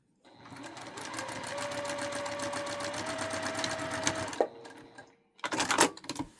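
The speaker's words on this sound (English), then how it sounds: "and then just keep on sewing." A domestic sewing machine stitching an upcycled quilt-as-you-go block runs in one steady, buzzing four-second stretch, stops briefly, then gives a short second burst, close and alone.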